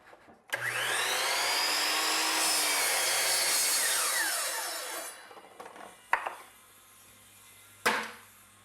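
A miter saw cuts a miter through wood casing in one loud whining pass of about four seconds, close up, followed by the blade spinning down and a few sharp knocks.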